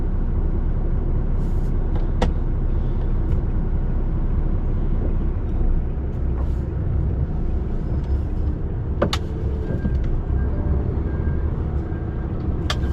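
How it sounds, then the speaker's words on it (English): A truck passes near the docks in Widnes, a steady loud low engine rumble and road roar filling the whole stretch with a few faint clicks and thumps over it. "Just waiting for this truck to come past."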